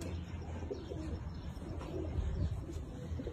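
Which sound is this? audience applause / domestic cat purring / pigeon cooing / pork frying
pigeon cooing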